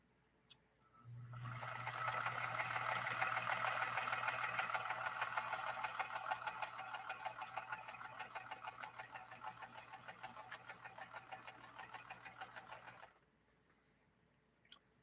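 A rare Singer 222K sewing machine stitches steadily for about twelve seconds, a loud continuous mechanical whir with a fast regular needle rhythm and a low motor hum, starting and stopping cleanly with no voices.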